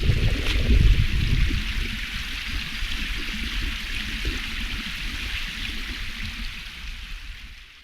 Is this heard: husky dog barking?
no